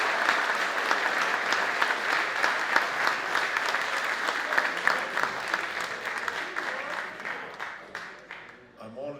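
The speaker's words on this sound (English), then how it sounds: "Why don't you all give each other a round of applause for everything you've done in this year?" A large indoor audience at a county council awards ceremony gives a sustained round of applause, dense clapping holding steady for several seconds before thinning out near the end.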